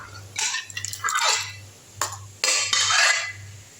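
Cooked lentils being poured and scraped from a vessel into a pot of sweet potato sambar, bursts of wet plopping and metal clinks in separate pulses, close and fairly loud over a steady low hum.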